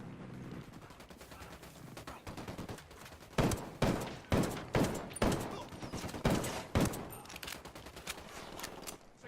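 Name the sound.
gunfire in video game Ghost Recon Wildlands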